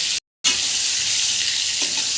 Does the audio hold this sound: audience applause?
no